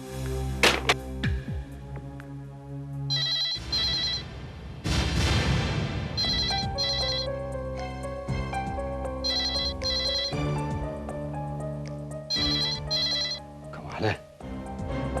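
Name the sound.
telephone ringing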